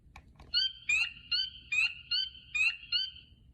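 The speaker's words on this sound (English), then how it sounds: "Listen closely to their sharp, loud peeping chorus." A single spring peeper frog gives sharp, high peeps repeated in a quick, even rhythm, about two per second, clear against a quiet background.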